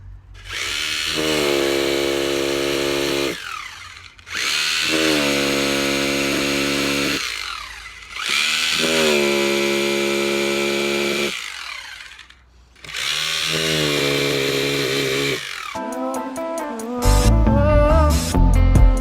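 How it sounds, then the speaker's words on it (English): A loud hammer drill roars in four long bursts with short gaps between, vibrating wet concrete for an outdoor pizza oven, its tone steady and grinding, followed by a rattling, clattering stretch at the end. "it's time to start vibrating it now with my hammer drill."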